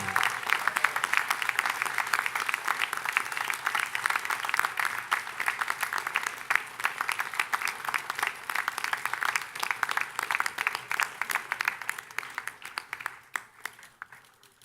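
Sustained applause from a large crowd at a 2017 business school commencement ceremony, steady dense clapping for about twelve seconds before thinning and fading out near the end.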